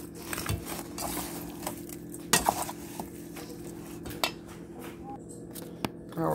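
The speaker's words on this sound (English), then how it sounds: "Alright, so I did it with the fork." A metal fork clinks and scrapes against a bowl while mixing seasonings, irregular taps and sharp clatters over a low steady background hum.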